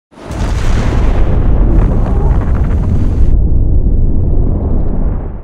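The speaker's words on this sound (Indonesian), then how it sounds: "dia menenggelamkan kapal tersebut agar bomnya meledak di bawah laut" A huge, sustained roar of a bomb exploding underwater beneath a sinking ship, with deep rumbling low end that swells quickly and holds loud for several seconds, like a massive blast.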